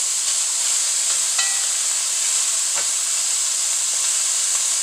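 Onions and bacon fry in a pot with a steady, bright sizzling hiss that stays even throughout, no voices over it.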